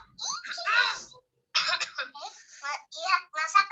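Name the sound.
cough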